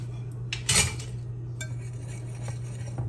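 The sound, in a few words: mixing dry cornbread ingredients, self-rising cornmeal and flour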